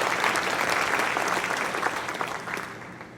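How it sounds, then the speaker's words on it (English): At a school's junior parent night, an audience of parents gives a warm round of applause, a full, even clatter of many hands that slowly fades over three seconds. "if you can give her a round of applause"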